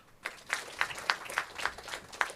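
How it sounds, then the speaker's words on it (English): An audience at an HR leadership summit claps together in an even rhythmic beat, about three or four sharp claps per second, heard from a moderate distance. "I want all of you to clap for this institute."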